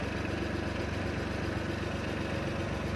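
A Mitsubishi farm tractor engine idles steadily up close, a continuous low mechanical drone with no voices.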